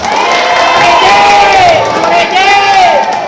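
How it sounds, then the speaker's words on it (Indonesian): Crowd at a village head election campaign gathering cheers and shouts loudly, with whoops and rising voices over clapping, sustained and close. "Kurang semangat sekali. Tepuk tangan untuk kita semua."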